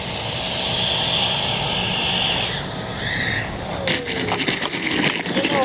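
An FMS Avanti S 90mm EDF radio-controlled jet gives a steady, loud high-pitched whine that sweeps as it passes, fading slightly before rising again with gusty roar near the end.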